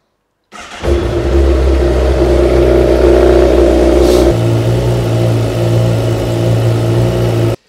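A 2019 Honda CBR 1000 RR motorcycle engine starts up and settles into a steady, close idle, with a brief rev and a drop in pitch partway through; no speech.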